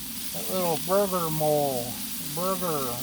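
Beef and mushroom burgers sizzle steadily on a Blackstone griddle, a soft constant hiss running under a voice.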